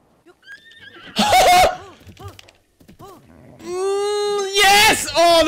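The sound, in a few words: horse neighing in video game Zelda: Breath of the Wild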